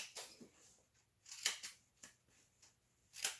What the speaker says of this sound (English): I'm just going to do that with my scissors real quick